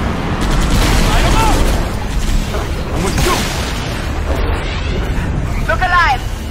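Loud, continuous battle din from the Halo: Reach video game, with weapon fire and booming blasts layered densely throughout and voices shouting over the combat.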